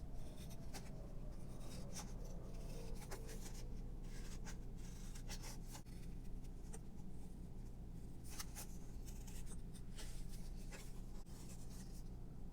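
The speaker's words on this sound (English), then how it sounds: "I'm going to be cutting as close to the line as possible here, just with some scissors" Scissors cut paper for a folded dragon mask sculpture, giving close, steady scratchy snipping with irregular crisp clicks over a constant low hum, with no talking.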